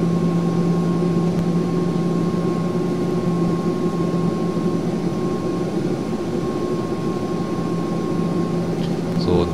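Simulated airliner jet engines at full thrust as the plane accelerates in X-Plane 10, a loud, steady, droning roar with a constant tonal whine, continuous throughout.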